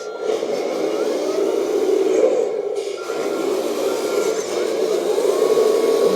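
A 1/14 scale hydraulic 8x8 RC tipper truck with metal cabin driving along, its electric motor giving a steady whirring hum that rises and falls slightly as it moves.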